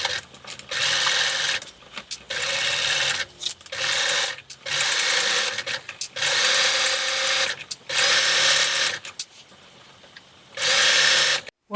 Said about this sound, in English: then we'll flip it over and sew it all the way on